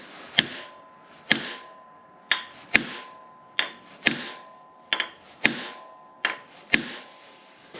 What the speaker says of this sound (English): I'm going to just hit it with a hammer a couple times